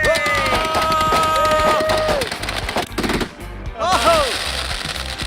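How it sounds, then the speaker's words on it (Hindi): Rapid bursts of firecracker-like explosions crackle and pop loudly in a game, with whistling tones and a voice talking underneath. "मैंने बस रैंडम पटाखे खरीदे थे, सोचा नहीं था इतना बवाल मच जाएगा"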